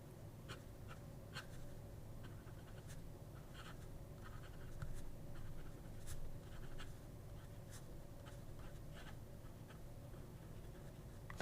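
Brass Hongdian M2 fountain pen with a number 5 medium nib scratching across paper in short, quiet strokes, faint and close against a low steady background hum.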